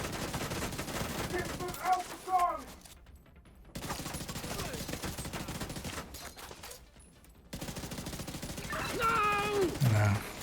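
Sustained gunfire from shooting heavy enemies in a video game, dense bursts running almost continuously under game sound effects and music, with brief near-silent gaps and a voice speaking over parts of it.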